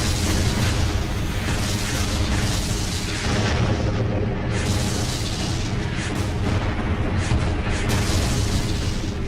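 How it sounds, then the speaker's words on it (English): Massive artillery fire during the Kursk tank battle: a dense, continuous roar of booms and blasts that stays loud throughout, with heavy low rumble and no clear pauses between detonations. "we were met with huge artillery fire"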